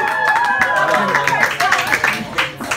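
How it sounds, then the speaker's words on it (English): Audience applause for a spoken-word poet at a poetry slam in an Orlando bar: steady clapping runs under a speaking voice, with the voice prominent over a moderate, continuous wash of hands. "One more round of applause here in Shepherd Feature"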